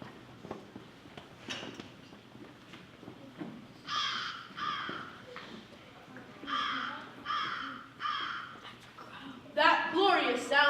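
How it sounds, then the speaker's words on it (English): Raven calling with several loud, harsh caws in irregular bursts, growing busier toward the end, over a quiet outdoor background with a voice speaking beneath. "No, that's only a raven."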